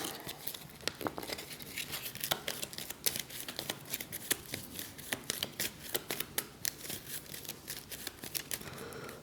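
A deck of cards from the Shadowrun Crossfire Prime Runner Edition board game is shuffled close up, making rapid, crisp riffling clicks and snaps in quick irregular bursts with no voices.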